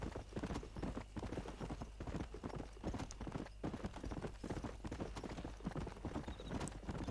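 Horse hooves clip-clop steadily in Red Dead Redemption, a quick even rhythm of close, distinct hoofbeats continuing throughout with no talk.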